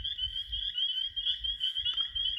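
An American toad being handled gives a continuous high, steady trill that holds for the full stretch, close and fairly loud, over low handling rumbles and bumps.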